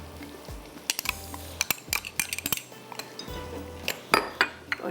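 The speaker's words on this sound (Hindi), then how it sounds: "चम्मच से इसको मैं अच्छी तरह से मिक्स कर लेती हूँ" A spoon stirring chopped onions and butter in a metal pan, with irregular scraping and sharp clinks of metal on metal, close and fairly loud, no talking.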